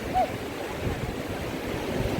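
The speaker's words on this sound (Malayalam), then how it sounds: "കടലുണ്ട്, കിടലല്ലേ" Sea waves washing onto a sandy beach in cool wind, a steady low rushing surf with faint wind noise, close and continuous.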